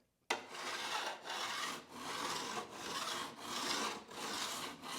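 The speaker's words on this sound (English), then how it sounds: "Here's the sound of a file not gripping." A hand file rasps across a snowboard's metal edge without biting, a close, steady scraping in six repeated strokes with brief dips between passes.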